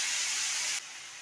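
Finely shredded potato drops into hot oil with cumin paste, ginger paste, salt and turmeric, giving a loud, close burst of hissing sizzle that cuts down abruptly partway through.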